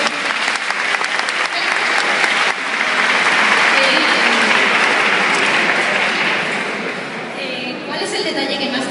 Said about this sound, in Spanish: Otro fuerte aplauso.